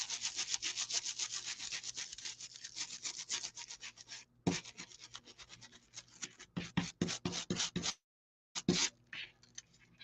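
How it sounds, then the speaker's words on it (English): A brush rubs foil onto a surface in quick, rhythmic scratchy strokes, close and clear, briefly stopping twice before resuming in separate sharper swipes. "I'm just taking a brush, and you just rub it."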